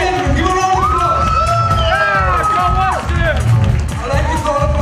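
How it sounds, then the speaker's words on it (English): A crowd at a pageant cheers loudly for the second runner-up, many voices shouting and whooping together close by, with clapping blended into the noise. "give a round of applause"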